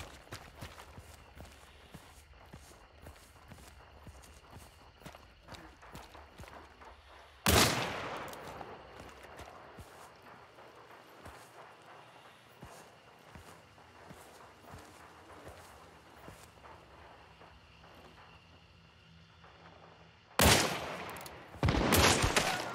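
Sharp gunshots and bursts of gunfire from Hunt: Showdown crack loudly at two points, set against a steady bed of ambient game noise and scattered softer shots and movement.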